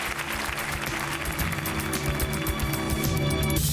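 Studio audience applause on a French TV show, steady sustained clapping throughout at a fairly loud, even level with no speech over it.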